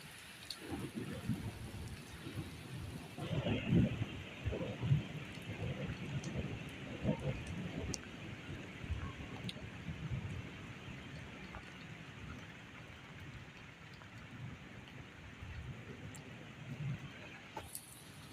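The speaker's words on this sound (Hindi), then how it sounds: "बहुत अच्छी बारिश शुरू हो गई।" Heavy rain falls steadily in Darora, Upper Dir, a continuous hiss of drops on surfaces that holds at an even level throughout, with a louder rustle early on and faint background sounds underneath.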